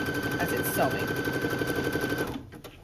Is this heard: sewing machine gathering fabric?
yes